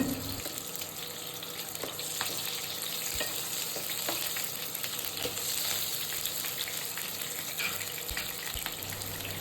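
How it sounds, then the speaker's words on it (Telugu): Cumin, mustard seeds and slit green chillies fry in oil: a soft, continuous sizzle with scattered small pops and stirring clicks, fairly quiet and without talk. "కొంచెం జీలకర్ర వేసి కొంచెం ఆవాలు అలాగే రెండు పచ్చిమిర్చి చీలికలు వేసి ఇలా నూనెలో వేయించుదాము"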